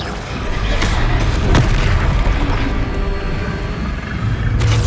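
Blasting spell explosions from the game Hogwarts Legacy, a loud sustained boom and rumble with sharper bursts standing out over a dense roar.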